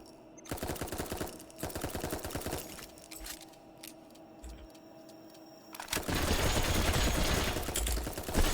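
Rapid automatic gunfire from a weapon in the video game Doll's Nest, a dense burst of shots followed by quieter mechanical sounds, then a sustained loud roar of fire near the end.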